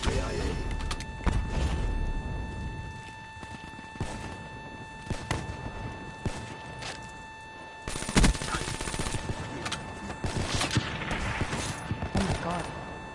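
Video game gunfire crackles in dense automatic bursts and scattered single shots, loud and close, over a steady electronic hum, with a player talking at times.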